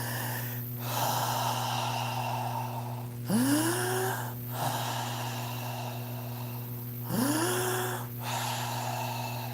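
A voice imitates a room breathing like a human, with two drawn-out breathy inhales, each rising into a snort-like gasp, over a steady low hum.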